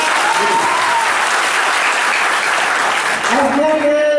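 A crowd at an evening poetry gathering breaks into loud, sustained applause, close and continuous throughout, with a brief tonal voice or whistle rising over the clapping near the end.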